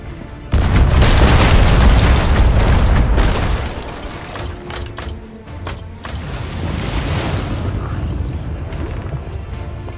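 Heavy ship cannons boom in Sea of Thieves, a loud burst of deep blasts over the first few seconds, then rumbling, crashing impacts and sea noise that settle into a steadier roar.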